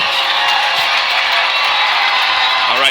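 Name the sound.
home crowd cheering at high school football game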